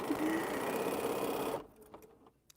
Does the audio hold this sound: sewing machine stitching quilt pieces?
yes